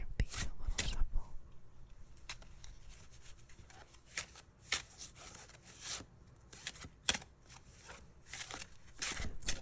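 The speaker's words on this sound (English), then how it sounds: "I just want to give these a little shuffle." Thick, heavy tarot cards with a smooth coated texture are shuffled gently, giving soft riffling bursts and light flicks that recur across the stretch, close and quiet, with no voice over them.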